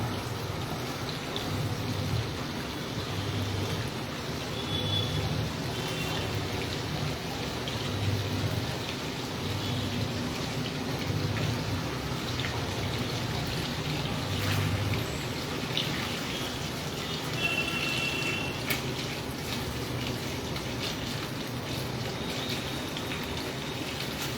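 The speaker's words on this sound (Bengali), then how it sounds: "হালকা হাতে আমি প্রনগুলোকে নাড়াচাড়া করব" Prawns cooking in butter bubble and spit in a pan for a butter garlic prawn dish, a steady crackling fizz with occasional soft stirring knocks, close and continuous, with no talking.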